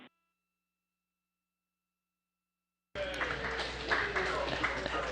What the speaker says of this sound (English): And applause here in Mission Control Houston.